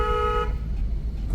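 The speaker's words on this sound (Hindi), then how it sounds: "लॉन्ग हॉर्न दो मैडम को।" A car horn blares in one sustained honk on a crowded night market street, cutting off after about half a second and leaving steady engine and traffic noise.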